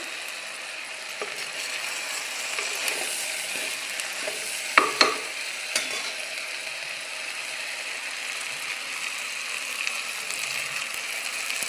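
Onions and other ingredients, cooked down until soft and curled, sauté in a pan with a steady low sizzle, scraping stirs of a utensil and a few sharp clicks and knocks against the pan near the middle.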